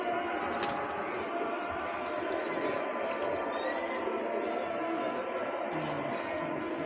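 Pigeons cooing in a new loft, a steady bed of soft bird calls and rustling with murmuring voices mixed in throughout.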